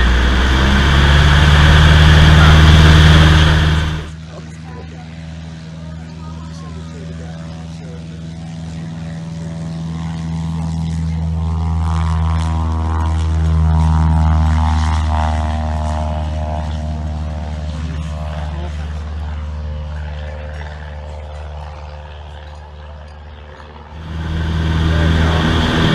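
A light propeller aircraft's engine running up to full takeoff power on a runway in a crosswind, a loud steady drone that builds and holds, with short bursts of loud wind or cockpit noise at the start and end.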